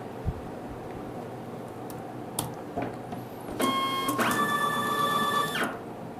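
A Kassen E460 label printer runs a price-label print job in two mechanical bursts of whirring feed and print-head buzz with faint clicks, moderately loud and close, in a quiet room with no talking.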